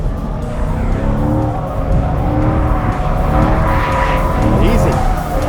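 A 2020 Chevrolet C8 Corvette corners hard on throttle, its tires squealing in rising and bending wails over a loud, steady engine roar that lasts several seconds.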